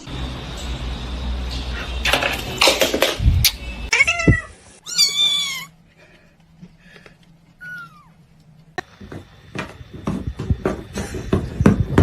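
A kitten meows several times, high rising and falling calls in a quiet stretch, framed by louder clinking and rustling noise, with some faint voices.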